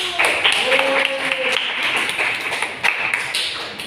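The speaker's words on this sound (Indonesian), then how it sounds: "Tepuk tangan dulu" Students in a classroom clap together in a steady, dense burst that runs throughout, with a brief voice rising over the start.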